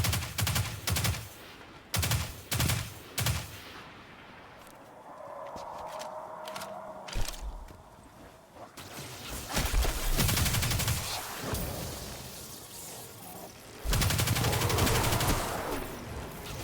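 Gunfire in the video game Destiny 2: bursts of close, loud shots in quick clusters, separated by quieter stretches of ambient game sound, later sustained rapid fire, with no talk.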